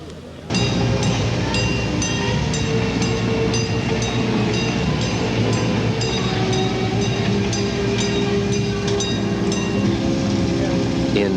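A passenger train of new Pullman cars hauled by SD40 diesel locomotives rolls past close by, a loud, steady roar of engine rumble and wheel noise with rhythmic clicking over rail joints throughout.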